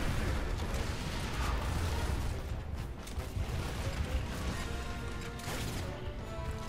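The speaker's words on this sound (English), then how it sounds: "Throwing frag." A frag grenade blast in the Gears of War video game, heard as a dense, loud roar of explosive noise that fills the whole stretch with only brief dips and no clear separate bursts.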